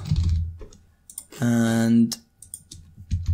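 Fingers type on a computer keyboard in light, scattered clicks and taps, with a drawn-out spoken word in the middle and some quieter talk around it.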